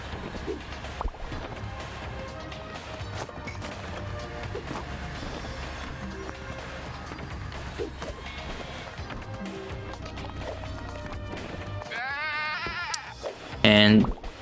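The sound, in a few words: sheep bleating in the video game Moving Out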